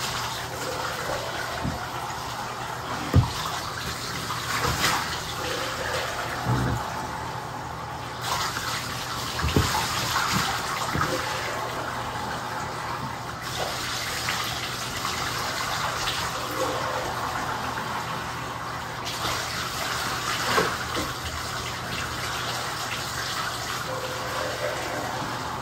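Water runs steadily from a tap to fill a bath for a dog, a constant broad rush lasting throughout at moderate loudness, with a few soft knocks and faint background sounds mixed in.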